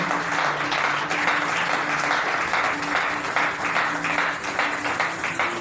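A church congregation applauds during a Sunday service, steady dense clapping that runs the full stretch at an even level, with a faint sustained tone humming underneath.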